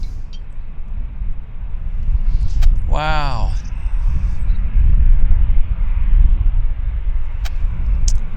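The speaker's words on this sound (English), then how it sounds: "this is the Liberals' campaign airplane" Liberal campaign Airbus A319 departing Vancouver airport, a steady low jet engine rumble with a distant rising whine swept through mid-clip, while a voice briefly exclaims.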